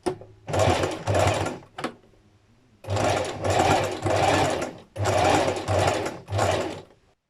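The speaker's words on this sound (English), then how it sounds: "let's go ahead and stitch those seam allowances of the front pocket pieces" A sewing machine stitches the seam allowances of jogger front pocket pieces, running in several loud, steady bursts separated by short pauses, with no talking.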